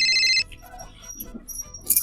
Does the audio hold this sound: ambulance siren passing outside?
no